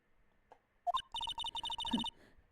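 A phone's voice assistant chimes awake with a short rising tone, then a quick run of evenly spaced electronic beeps follows, clear and close with no talk over it.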